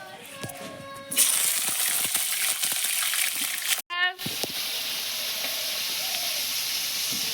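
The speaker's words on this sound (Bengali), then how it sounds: "কড়াই দিয়ে দিচ্ছি সাদা তেল এবার আমি সবজিগুলো ভেজে নেবো" Loud, steady sizzling hiss of vegetables frying in hot white oil in a wok, continuous with a brief dip partway through, and faint background sounds.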